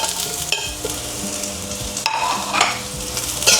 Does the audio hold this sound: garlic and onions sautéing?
yes